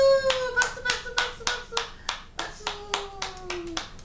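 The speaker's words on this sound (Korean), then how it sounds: "박수 얼른 박수 해야지" A baby named Suin claps her hands, about a dozen distinct, fairly evenly spaced claps up close, with a high adult voice humming or calling along beneath.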